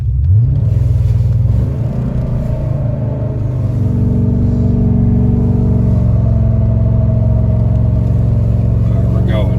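1982 Porsche 928 engine held at about 3,000 RPM in first gear, a loud, close, steady deep rumble with layered harmonics that climbs briefly at the start and then sustains.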